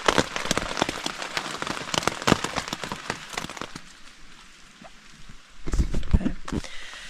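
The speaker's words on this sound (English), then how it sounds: "Sounds like it's starting to rain again." Steady rain patters on a surface at a hiking campsite, with louder bursts of drops and splashes at the start and again near the end.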